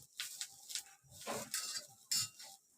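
Spices for an egg curry masala roasting in a pan and stirred with a utensil, giving soft scraping strokes and light clinks in short irregular bursts, close and fairly quiet.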